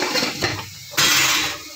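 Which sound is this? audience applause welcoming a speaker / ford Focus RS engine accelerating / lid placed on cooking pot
lid placed on cooking pot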